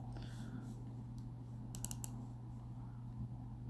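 Laptop keyboard typed on during a Windows task: a short burst of a few quick light key clicks in the middle, faint against a low steady electrical hum, with no talking.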